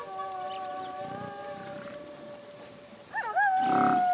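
In a cartoon, a mockingbird imitates a wolf howl on the prairie: long sustained wavering tones, then a sharper rising howl near the end, fairly close over a quiet background.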